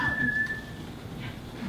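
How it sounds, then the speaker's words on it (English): A thin, steady whistle sounds briefly at the start over a quiet background hum, then fades out. "None of my boys be afraid of something like a little whistle."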